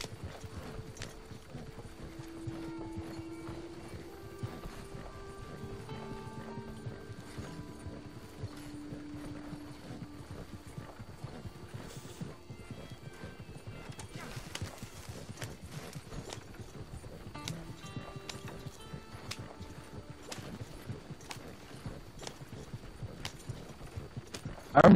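Horse hooves clip-clop steadily throughout in Red Dead Redemption 2, a continuous rhythmic walking gait heard at moderate level over a low ambient bed, with no talking.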